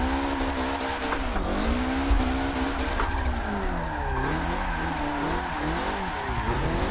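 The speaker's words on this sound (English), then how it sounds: "I just love that flutter sound." Wide body MK5 drift car with a rotary engine in a racing video game, its fluttering, warbling engine note rising and falling steadily and loudly through the whole stretch, with faint tire squeal and no talk.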